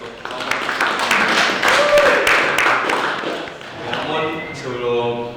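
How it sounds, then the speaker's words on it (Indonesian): Audience applause at a seminar session, a few seconds of mixed clapping and tapping that fades as a voice begins speaking toward the end. "Ini boleh beri tepuk tangan sekali lagi untuk"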